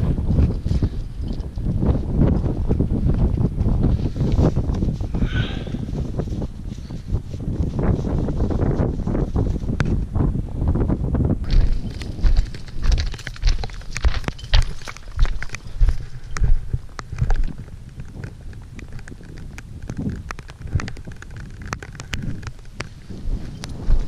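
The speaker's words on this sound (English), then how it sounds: "In the back you can see the heavy rain and it's coming closer and closer, and the wind also picks up." Strong wind gusts across an Alpine mountainside as heavy rain approaches, producing a continuous loud, low rumbling roar against the microphone with occasional knocks and rustles.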